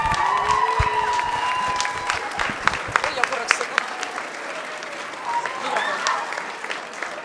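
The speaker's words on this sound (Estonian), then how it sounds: "veel üks aplaus võitjatele" Audience at a school playback show applauding the winners: dense, steady clapping from a crowd with scattered cheers, voices talking over it throughout.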